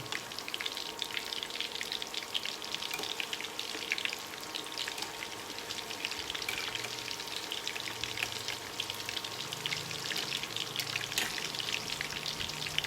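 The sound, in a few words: tofu and tempeh frying in a wok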